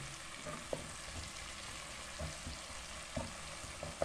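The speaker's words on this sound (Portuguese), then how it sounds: "Vocês estão vendo aí que o bacon tá fritinho" Bacon, diced onion and crushed garlic fry together in a pan for a chicken and bacon pie filling, a soft, continuous sizzle with a few faint clicks of stirring and no talking.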